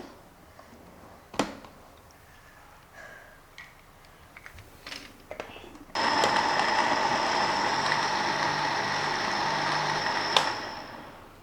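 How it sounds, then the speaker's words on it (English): A kitchen blender runs on chicken and vegetable soup, switching on partway through with a loud, steady motor whir after a few quiet handling clicks and knocks. "Now we will blend this for a while."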